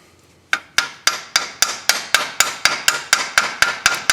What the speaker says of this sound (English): Not whacking it hard, just tapping it.